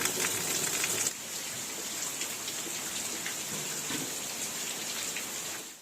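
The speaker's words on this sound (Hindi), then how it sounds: "उठ के देख रहा हूँ जोरदार पानी गिर रहा है" Heavy rain pours down in a Chhattisgarh village, a dense, even hiss of drops hitting surfaces that is slightly louder in the opening second and then holds steady.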